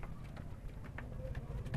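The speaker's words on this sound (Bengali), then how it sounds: "ফিমেল কবুতরটি দেখে নিই" A female Indian Madras pigeon coos softly in low, rolling murmurs, faint and close, with no voices around.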